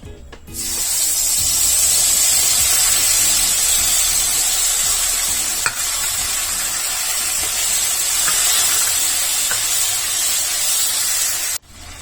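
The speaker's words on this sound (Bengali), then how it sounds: "এবার গুলে রাখা মশলা যোগ করব এবং মিশ্রণটিকে 2-3 মিনিট ভালো করে কষে নেব।" Spice paste hits hot oil in a pan of Bengali chana dal with asafoetida, bursting into a loud, steady hissing sizzle close by that runs continuously before cutting off abruptly.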